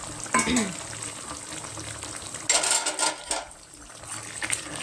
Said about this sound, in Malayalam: ഞാൻ മൂന്നാല് തണ്ട് കറിവേപ്പിലയും കൂടെ വറുത്ത് ഇതിലേക്ക് ഇട്ട് കൊടുക്കുവാണ്